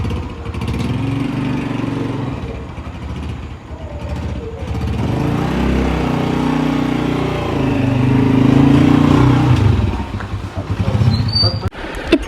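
A motorcycle engine idles and runs steadily at close range for the whole stretch, its low rumble swelling slightly before cutting off near the end.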